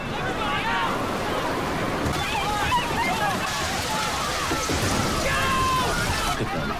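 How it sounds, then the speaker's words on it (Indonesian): Heavy rainstorm lashing an island prison camp: dense, loud, continuous rush of rain and sloshing water fills the whole stretch, with faint tonal voices or sounds buried in the downpour. "hujan badai semakin memburuk serta membuat semua orang terlihat panik"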